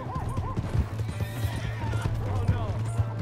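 In the Red Dead Redemption 2 video game, a horse whinnies several times in rising calls while its hooves clip-clop at a quick pace close by, and voices speak over the scene.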